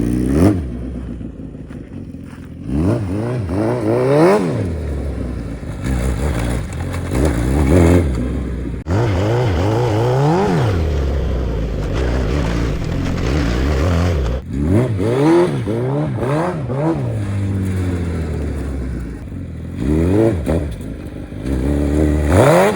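A Hayabusa-swapped dirt bike engine revs hard again and again as the bike climbs over a log pile. Loud, close throttle blips rise and fall, with clattering between them.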